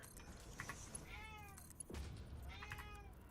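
A cat meows twice with rising and falling harmonic cries, close and fairly clear over a low background hum, in a quiet indoor setting while a Satisfactory game session plays.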